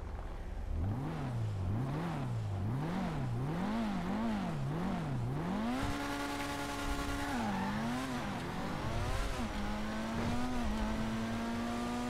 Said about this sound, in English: New Porsche 918 just became the fastest car in the game.